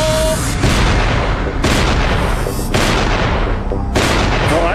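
A homemade multi-barrel gun fires again and again, sending out four loud, booming blasts about a second apart. Each blast rolls into a rumbling tail, and the sound is close and powerful.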